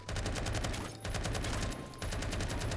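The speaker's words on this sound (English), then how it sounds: "if you want a super easy to use assault rifle, not battle rifle, this Scar L is for you" Scar L assault rifle firing in Roblox Phantom Forces, a rapid steady stream of loud synthetic gunshots in bursts with brief pauses around the one- and two-second marks.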